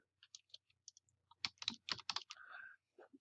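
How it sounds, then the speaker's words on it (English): Keys on a computer keyboard are typed while entering code in a web page editor, a close run of quick, crisp clicks in short irregular bursts with brief pauses between words. "I'm going to type the word header."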